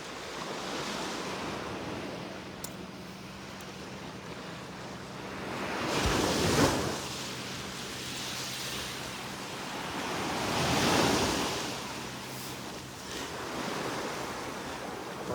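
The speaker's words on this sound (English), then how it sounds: "Right when the waves are doing this is great." Ocean waves roll onto the beach at Delnor-Wiggins: a constant surf wash with two louder breaking swells a few seconds apart, then a softer third, with no voices.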